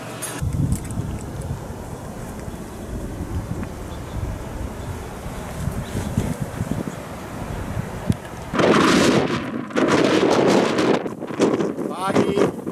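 Strong wind roars and buffets the microphone on a foggy, stormy hike at Point Reyes, rumbling low at first and then gusting much louder and harsher for the last few seconds.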